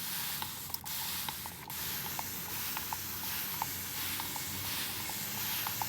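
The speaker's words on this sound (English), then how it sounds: "I have my little mister here and I'm going to just spray it." A small hand mister sprays water over sweet potato slips indoors, giving a steady soft hiss with short repeated pumps ticking through it, close and fairly quiet, no talking.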